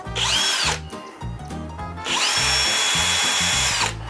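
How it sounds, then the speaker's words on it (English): Power drill running during an RV roof repair, a loud whining motor revving up in two long bursts separated by a short pause, close and with no talk. "What kind of go to hell bit do you have on this drill?"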